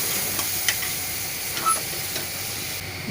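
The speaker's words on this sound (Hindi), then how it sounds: "मसालों को हमें भून लेना है थोड़ी देर तक, सिम पर या धीमी आंच पर।" Spices roast in oil in a pan over low heat, a continuous soft sizzle with occasional light stirring clicks, close and steady.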